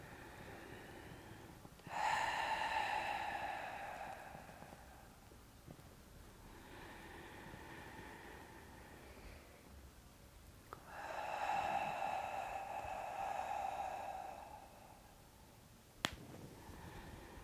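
A person breathing during a pilates exercise session, with two long, clear breaths spaced several seconds apart and softer breathing between them, heard close and alone with no talk.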